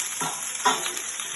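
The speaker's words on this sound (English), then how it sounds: "You can see that the garlic and the ginger are cooking." Garlic, ginger and fresh turmeric fry in oil for tarka dhal, a close continuous sizzle with a few stirring scrapes, and nobody talks.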